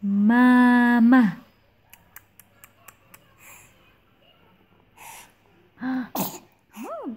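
A baby gives a sudden short sneeze after a long vocal gasp, followed by small breaths and soft babbling in a quiet room with an adult voice nearby.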